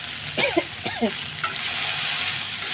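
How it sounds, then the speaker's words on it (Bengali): Pasta fries in a pan with a steady sizzle. A few quick scraping stirs come early on, then the frying settles into a continuous hiss. "আর একটু ভাজা ভাজা করে নামিয়ে দেবো পাস্তা রেডি"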